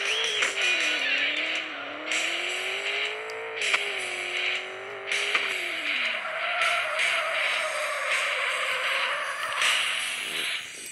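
A car drifts in a mobile racing game, with a steady revving engine that rises and falls in pitch and long, sliding tire squeals layered on top, loud and continuous with no voices.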